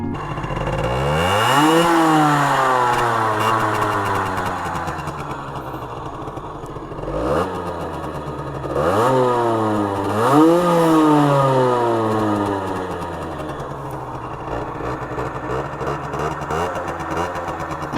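A 2021 Aprilia RS4 50cc motorcycle engine with an Akrapovic exhaust idles roughly, then revs up in several rising, buzzing bursts that fall back between pulls, close and loud.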